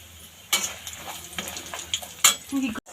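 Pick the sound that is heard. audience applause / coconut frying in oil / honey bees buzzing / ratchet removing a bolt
coconut frying in oil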